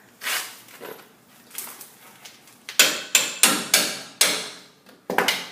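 A hammer strikes a bolt on a truck control arm, starting with lighter taps and building to a run of sharp, ringing metallic blows in quick succession.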